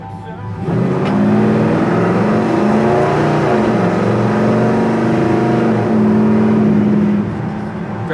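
A 1967 Chevy C20 truck engine drones loud and close while driving, a steady low rumble with shifting pitch as it pulls along for several seconds.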